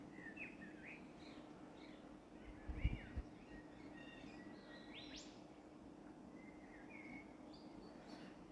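Birds chirp and call outdoors on a sunny day, scattered bright tweets over a steady low background hum, with a brief louder thump partway through.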